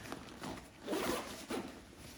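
A zipper on a tactical raid pack is tugged in a few quick, short pulls, close and quiet, with light scraping bursts separated by brief pauses.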